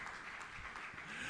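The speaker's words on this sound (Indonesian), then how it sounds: "Tepuk tangan yang meriah untuk kemuliaan amin" Church congregation applauding, a faint, steady wash of many hands clapping together through a short stretch of a sermon.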